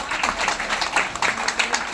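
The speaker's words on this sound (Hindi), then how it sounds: "एक जबरदस्त ताली आप सबके लिए।" Audience applause at a Hindi-language network marketing seminar, a dense, steady wash of many hands clapping that fills the whole stretch without a break, with no clear talk over it.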